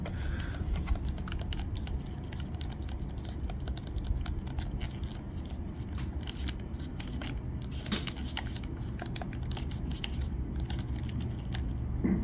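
The D-pad of a Fantech Nova Pro WGP-14 V2 game controller is pressed repeatedly, giving soft, rapid plastic clicks and taps in a continuous patter over low background noise.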